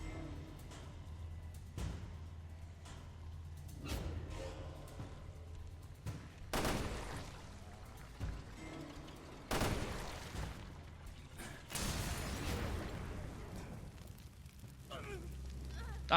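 Gunfire in the video game Resident Evil Revelations 2: bursts of shots and booming blasts spread across the stretch, mixed with game noise and a low steady hum, with a voice talking over parts.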